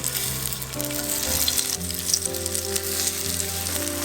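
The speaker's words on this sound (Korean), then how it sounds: "기름을 살짝 두르고요. 케일전 반죽을 한 숟가락씩 얹어주세요." Spoonfuls of kale pancake batter fry in a thin layer of oil, giving a loud, dense, continuous sizzle with crackling pops and a faint background hum; no voices.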